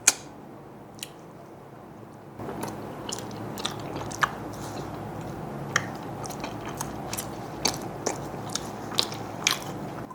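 Someone eating tikka from an iftar kit, with soft wet chewing and squishy bites close to the mic, scattered crunchy clicks recurring through a steady background hiss.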